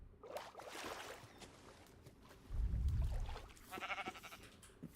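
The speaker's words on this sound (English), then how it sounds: "But there are sheep over here," Sheep bleating in Minecraft, a few short wavering bleats at moderate distance over a faint low rumble, with quiet gaps between calls.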